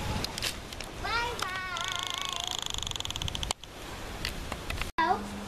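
A domestic cat gives a few short, close meows and a soft purr, with brief rustling and handling noises in between.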